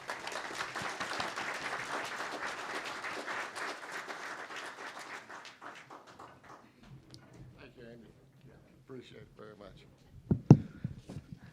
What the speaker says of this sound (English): please, another warm applause for our honorary chair